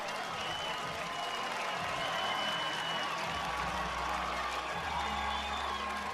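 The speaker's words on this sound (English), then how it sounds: "Listen to that Kaukauna crowd." Crowd at a high school baseball championship game in Kaukauna cheering and clapping after a go-ahead hit, a steady wash of noise throughout with a few voices poking through.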